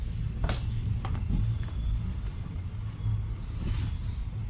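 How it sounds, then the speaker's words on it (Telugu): A train rolls past Akkannapet railway station in Medak, its wheels squealing with a high thin screech over a steady low rumble of rail cars, loud and close throughout. "సో ఇది అక్కన్నపేట రైల్వే స్టేషన్"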